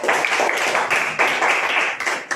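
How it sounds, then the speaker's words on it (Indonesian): Students in a classroom clap for a classmate, a short burst of close, lively group clapping in several uneven surges. "Tepuk tangan buat Yosua."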